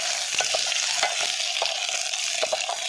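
Eggs being stirred into masala for egg madka dum biryani: a steady close sizzle with soft spoon scrapes and taps recurring every half second or so, no voices.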